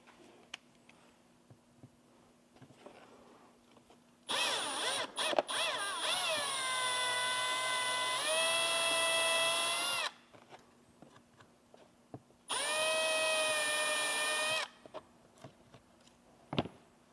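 Cordless drill fitted with a Forstner bit grinds down the plastic weld on a Tesla Model 3/Y speaker. Two long steady bursts of whining, buzzing cutting with brief stops and clicks between them. Close and loud against a quiet room, with no talking.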